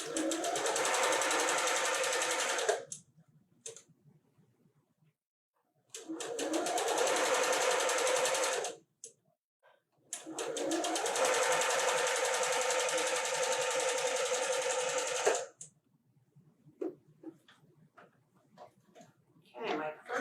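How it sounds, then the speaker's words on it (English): A sewing machine with a quarter-inch foot stitches fabric triangles together for a quilt block in three steady, continuous runs, each a few seconds long, with quiet pauses between them. "Okay, my first 2 triangles are sewn together."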